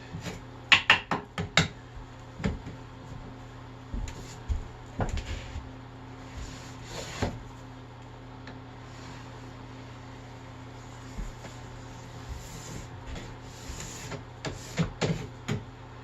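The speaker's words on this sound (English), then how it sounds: "you kind of have to hit the scraper at different angles" A plastic scraper works hot wax off Nordic skis at varying angles, producing clusters of sharp scraping strokes and clacks with quieter gaps between, close and moderately loud with no talk.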